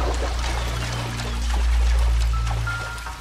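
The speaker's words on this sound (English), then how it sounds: "I think your water line may have ruptured from the explosion" Water pouring from a ruptured water line in a basement in the video game L.A. Noire, a steady splashing rush over a low rumble, continuous and fairly loud.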